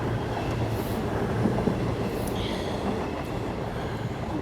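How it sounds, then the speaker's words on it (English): Train running at Paddington station during a snowstorm gives a steady, close rumble of rolling wheels and carriage noise, with faint squeals and clicks of the rails and no talk. "At least one train's still running."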